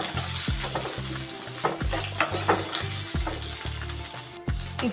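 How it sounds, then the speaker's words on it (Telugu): Chopped onions frying in hot oil with cloves and cinnamon, stirred with a spatula: a steady close sizzle broken by sharp scraping strokes against the pan at an uneven rhythm. "ఇప్పుడు కట్ చేసిన ఉల్లిపాయలను వేసుకుంటున్నాను వేసుకున్నాను వన్ టైం కలుపుతున్నాను"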